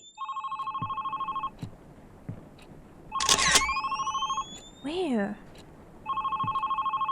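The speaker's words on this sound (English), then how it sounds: "Oh, my phone." A phone rings with a warbling electronic trill, repeating in bursts separated by short gaps. A loud click and a rising whistle-like tone cut in midway, and someone speaks briefly.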